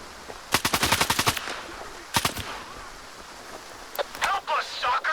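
Shootout with bandits in Stalker 2: quick bursts of automatic gunfire, a rapid string of shots followed by a shorter burst, then scattered sharp reports among game ambience and brief voices.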